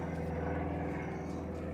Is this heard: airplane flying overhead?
yes